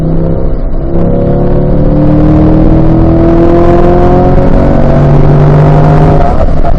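A race car at a performance driving school accelerates through a corner, engine note rising steadily in pitch, loud and close, with a brief dip before climbing again.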